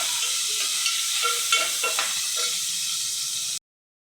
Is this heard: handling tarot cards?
no